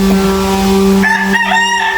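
Red and white chickens squawk and crow loudly and continuously up close, a sustained harsh, tonal rooster-like call with shifting pitch, no talk over it.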